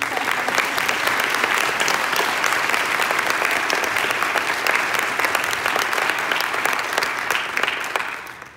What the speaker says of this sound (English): How about right now we have a round of applause for the parents?